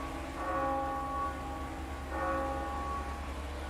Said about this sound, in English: That is the bell of shame for Mr. Wolfsliner.